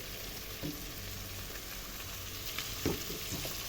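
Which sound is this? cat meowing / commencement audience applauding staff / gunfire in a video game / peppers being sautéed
peppers being sautéed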